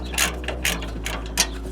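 A hand ratchet loosening bolts on the cold air intake of a 2017 Subaru Forester XT, three or four quick rasping clicking bursts close by, with no talking.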